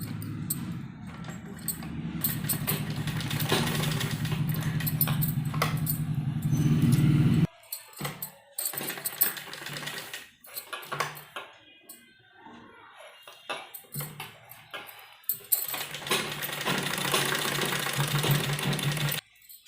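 A sewing machine stitches fabric for a newborn baby's dress, running in a steady rapid whir for several seconds, then in short stop-start bursts with handling noises between them, loud and close with no talking.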